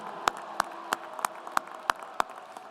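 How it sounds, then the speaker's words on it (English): Applause at a university spring commencement ceremony, heard here as a faint, sparse clapping under a row of sharp, evenly spaced claps about every third of a second, close and distinct. "big round of applause"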